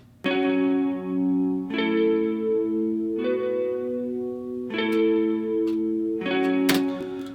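A clean electric guitar plays sustained chords that change every second or so, thickened by shimmering chorus, with mono delay repeats and a roomy reverb tail.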